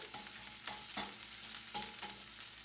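Chorizo and green onions cooking in a pan over medium-low heat, a faint continuous sizzle with a few spoon scrapes and clinks spaced out, close by and quiet, no talking.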